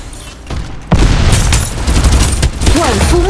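Video game gunfire in Farlight 84: a dense, loud volley of close shots and booming impacts going on steadily, with game effects and a rising chirp near the end, and a voice speaking over it.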